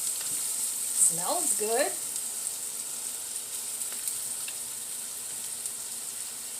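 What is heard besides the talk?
sautéing food in a pan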